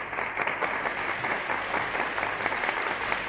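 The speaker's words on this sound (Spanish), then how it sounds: "Manolo, nuestro aplauso." An audience at a Saturday television gala applauds Manolo Escobar with steady, dense clapping that holds level for several seconds, a full room of hands with no voices on top.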